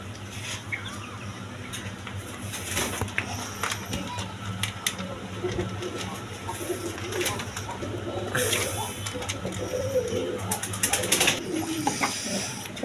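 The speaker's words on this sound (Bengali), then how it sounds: "এখানে এক পেয়ার ব্ল্যাক ডায়মন্ড বলে ডেনিস কবুতর" Low cooing from a pair of Black Diamond Danish pigeons goes on through a busy pigeon loft, mixed with clicks, flapping and other bird noise at steady moderate loudness.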